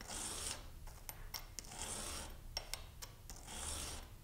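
A three-blade metal broadhead being sharpened: repeated rasping strokes, each lasting about half a second, soft and close, with small clicks and scrapes between the strokes.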